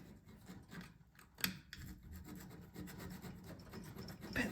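Metal surface of a cracked snow blower engine block being scratched up by hand before applying JB Weld, a faint, steady rasping scrape with short strokes and one sharper scratch, close by.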